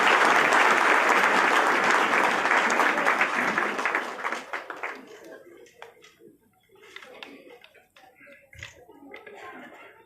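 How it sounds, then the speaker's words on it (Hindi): A hall audience at a BJP Goa Bihar Diwas celebration in Panaji applauds to welcome a speaker; loud, dense clapping for about four seconds, then fading into scattered claps and room murmur. "देवी और सज्जनों, जोरदार तालियों से स्वागत करें"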